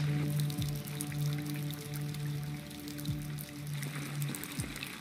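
Rain falls in the video game Detroit: Become Human, a steady wash of drops and trickling water heard close, with a low tonal hum and a few soft thuds underneath, no talking.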